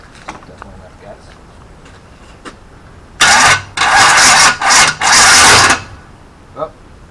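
The starter of a Chevy 350 V8 in a 1971 El Camino with starter trouble cranks in loud, close, harsh bursts with brief breaks between them, followed by quiet clicks and faint shuffling; the engine does not catch.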